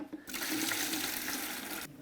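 Dirty water pours out of a Rug Doctor Pro carpet cleaner's recovery tank in a steady, gushing stream that runs close and fairly loud for under two seconds, starting and stopping abruptly.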